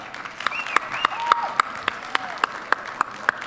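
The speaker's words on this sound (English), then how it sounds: "We'll just clap them off stage" A handful of people clapping in sparse, separate claps, fairly close, with a faint voice in the background, as performers leave the stage at a cowboy poetry gathering.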